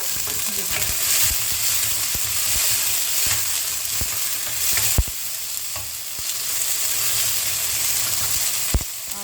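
Panch phoron spices sizzle and fry steadily in hot oil for a dal of moong and lentils, with occasional sharp clinks of stirring against the pan; no one speaks.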